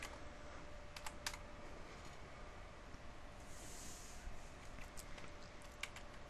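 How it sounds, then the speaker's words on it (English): Computer keyboard keys clack in short quick bursts as a command is typed, faint and close over a low steady hiss. "We'll type in do show run pipe section BGP"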